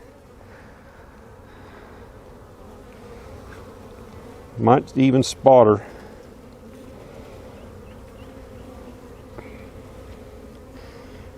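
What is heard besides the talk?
honey bees buzzing in an open brood box hive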